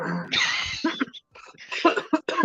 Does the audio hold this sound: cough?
yes